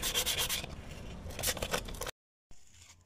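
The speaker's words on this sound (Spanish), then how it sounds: "voy a aprovechar para darle una lijada y una pintada leve" Rough scraping strokes of sandpaper on an L-shaped metal bracket from a VW Caribe, a few back-and-forth passes, then a short silence before fainter rubbing resumes.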